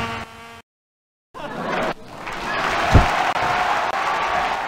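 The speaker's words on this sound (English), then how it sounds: "Did you hear the crowd? The crowd loved me." In a 1996 PC video game, after a brief silence, crowd applause swells into a steady, loud roar that continues to the end.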